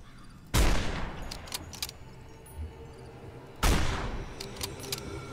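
Two loud, sharp long rifle gunshots in a video game, about three seconds apart, each followed by a rumbling echoing tail and faint clinks, with no voices.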